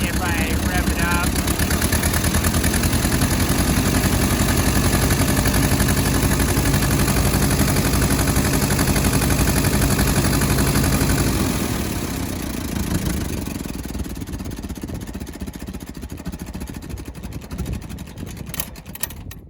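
An Allis Chalmers WD tractor engine, which has low oil pressure, revs up and runs loud and steady for about twelve seconds, then drops back and tapers toward idle with some clatter.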